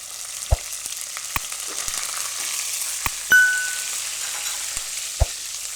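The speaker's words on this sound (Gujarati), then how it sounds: "તો તેલ આપણું ગરમ થઈ ગયું છે, એમાં આપણે પહેલાં જીરું નાખીશું અને મરચાં અને લીમડાના પાન." Cumin seeds, green chilies and curry leaves crackle in hot oil for a potato and rajgira dry bhaji, a steady sizzle with sharp pops and one clinking ding, no talking.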